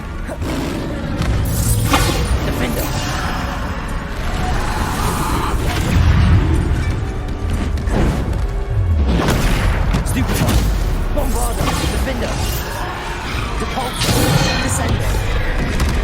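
Bombarda spell explosions in the video game Hogwarts Legacy: loud repeated booms and thuds with whooshing bursts, set against ongoing combat noise while a voice speaks at times.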